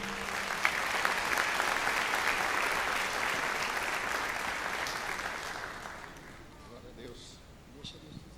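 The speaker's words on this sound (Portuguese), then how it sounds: "E aí você vai aplaudir a vida do Fernando aqui." Congregation applauding during a church service, a loud sustained burst of clapping that fades over several seconds to a few scattered claps and quiet voices.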